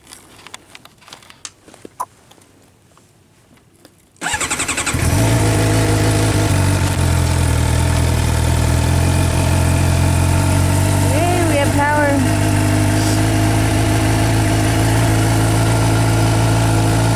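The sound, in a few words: 2016 Suzuki GSXR 750 motorcycle engine starting and idling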